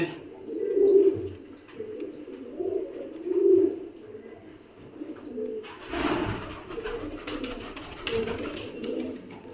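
Pigeons in pairs coo in soft, rounded pulses that rise and fall in waves, with occasional chirps and some rustling or shuffling noise near the coop.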